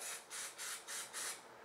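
Five short bursts of aerosol antiperspirant deodorant hiss evenly from a can held about six inches from an armpit, close and soft, with no talk.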